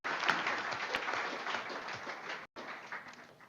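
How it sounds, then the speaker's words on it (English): A round of applause fills a board of education meeting room, steady dense clapping from the attendees with a very brief break near the end before it continues. "I think a round of applause"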